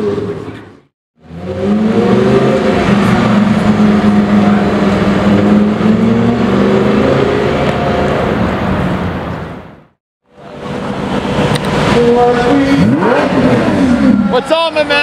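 A Lamborghini supercar's engine drones loudly through a lap at a gathering of rare, loud Lamborghinis, a sustained roar with a brief drop partway through, then rising again with a pitch sweep near the end.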